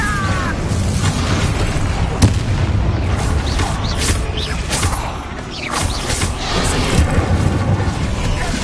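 An Incendio fire spell cast in a video game, heard as a loud, continuous roaring blast with rumbling booms and a few sharper cracks throughout.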